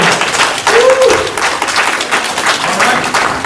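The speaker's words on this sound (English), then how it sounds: "Let's give him a cheer. Come on, let's give him a cheer." A crowd at a saber academy open house applauds and cheers steadily at close range, with voices whooping over the clapping.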